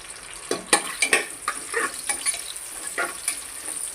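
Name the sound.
finely chopped onion and whole spices stirred and sautéed in pan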